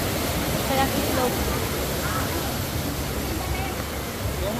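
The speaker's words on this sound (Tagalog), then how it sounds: "Ito na yung waterfalls." Talon Falls waterfall and a strong river current in Calauan, Laguna roar as a steady, loud broadband wash of rushing water, continuous and close throughout with no pauses.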